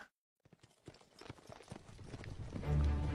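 A horse's hooves clip-clop in a rhythmic series of soft hits, starting faint after a short silence and growing louder and closer toward the end.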